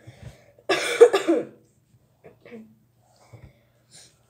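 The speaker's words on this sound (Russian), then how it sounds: "Я сейчас в своей комнате буду очень громко кашлять." A girl in her bedroom fakes a cough: one loud burst of harsh, wheezy coughs close up, followed by quiet sniffs and breaths in a silent room.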